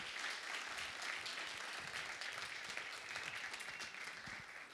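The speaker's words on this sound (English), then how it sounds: "Let's give one more round of applause for these folks." Audience at a tech pitch event applauding the presenters, a steady, dense roomful of clapping heard at some distance, fairly quiet and sustained.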